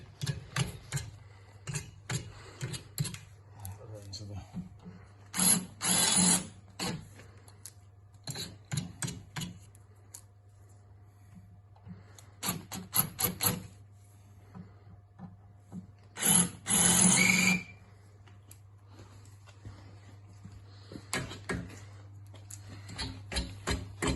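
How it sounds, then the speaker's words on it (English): Drill boring out rusty fasteners on an old Fastback car body, with short harsh bursts of grinding and scraping, the loudest around two stretches, separated by quieter clicks and handling noises over a low steady hum. "I'll just drill these out and take the bottom bit off."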